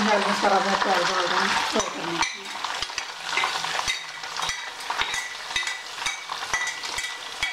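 Chicken biryani ingredients fry and brown in oil with a steady close sizzle. A spoon clinks and scrapes the pan in regular strokes while someone talks over the cooking.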